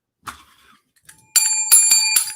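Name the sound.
hand bell being rung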